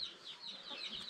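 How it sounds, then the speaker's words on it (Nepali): Local village chickens in Taplejung cluck softly and faintly nearby in a few short repeated calls. "लोकल कुखुरा होइन त्यो"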